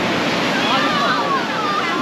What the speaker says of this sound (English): Oh god, look at the massive wave.